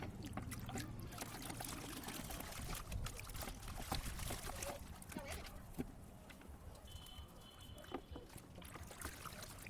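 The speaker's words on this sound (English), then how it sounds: "Just stir all the solution and stir them at least once on daily basis." A homemade fermenting liquid plant fertilizer solution being stirred, with steady sloshing, trickling and dribbling of liquid running close by throughout.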